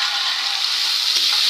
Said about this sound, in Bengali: এখন এই মশলাটা আমি একটু কষিয়ে নেবো